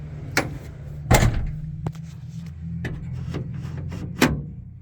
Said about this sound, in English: now I'm gonna just close the door and make sure everything works